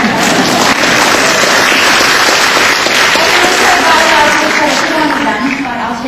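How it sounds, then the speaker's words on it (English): Loud, dense applause from an audience at a Call To Action Schools event, a steady wash of many hands clapping throughout with crowd noise mixed in. "Round of applause for them."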